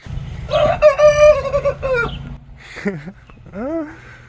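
A young rooster strains through a wavering, cracking crow, then gives a couple of shorter, squeaky attempts nearby, with a person talking softly underneath.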